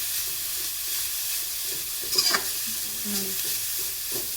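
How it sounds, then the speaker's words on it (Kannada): Grated coconut sizzles as it fries and gets stirred in a pan for a dill leaf rasam, giving a steady hiss with brief scraping clinks of the spoon near the middle and a short spoken word. "ಇವಾಗ ಇದಕ್ಕೆ ಕಾಯಿ ತುರಿನ ಹಾಕ್ತಿದ್ದೀನಿ. ಇದನ್ನು ಸ್ವಲ್ಪ ಫ್ರೈ ಮಾಡಿದರೆ ಸಾಕು."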